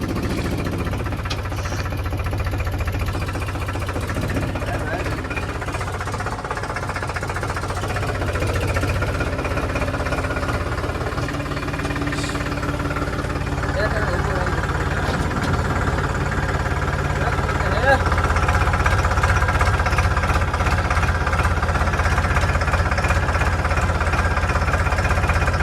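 A farm tractor engine runs loud and close in a steady rough chug with knocking vibration, holding constant throughout and rising slightly near the end, while someone talks faintly over it.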